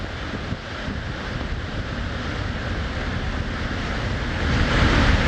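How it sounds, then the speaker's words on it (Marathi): Thoseghar waterfall in Satara, swollen after heavy rain, roars as a dense, steady wash of rushing water that grows slightly louder toward the end, with no voices. "पावसामुळे डोंगर माथ्यावरील धबधबे वाहू लागले"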